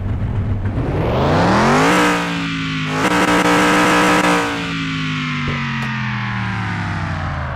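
A Plymouth Road Runner engine in a car mechanic video game revs hard, climbing and dropping in pitch over several seconds, loud and close with a buzzy, distorted synthetic tone.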